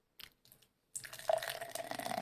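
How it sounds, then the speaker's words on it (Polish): Harnaś energy drink poured into a glass: a couple of faint drips, then a close, fizzy splashing pour that keeps running to the end. "Wiem, wiem, nie nalewa się tak piwa."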